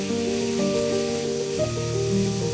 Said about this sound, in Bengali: আমি হলুদের গুঁড়ি দিয়ে দিয়েছি, তারপর সবজিটা ছেড়ে দিয়েছি। একটু নাড়াচাড়া করে ঢেকে দিব।